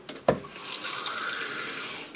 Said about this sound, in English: What it's gonna do is fill it up with water.